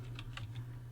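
Quick light taps on a computer keyboard, a few keystrokes in about a second, close and fairly quiet.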